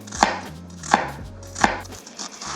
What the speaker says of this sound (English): Let's chop up the onion so we're ready to go.